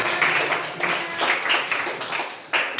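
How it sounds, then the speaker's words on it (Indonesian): Light classroom clapping from a small group of students during a civics lesson, a few uneven bursts of hand claps with faint voices mixed in. "Boleh berikan tepuk tangan"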